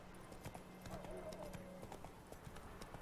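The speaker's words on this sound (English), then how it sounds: "we're also going to take a minute to call in our horse." Rhythmic clip-clop of horse hooves trotting at a steady pace in the video game The Witcher 3, crisp and close, with a brief soft whinny partway through.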